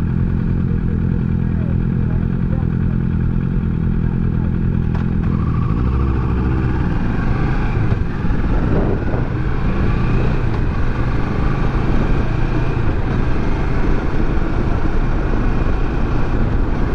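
Kawasaki Versys 650 ABS Tourer 2018 motorcycle accelerating, a loud steady engine roar that rises in pitch partway through, with road clatter throughout.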